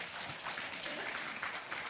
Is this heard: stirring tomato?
no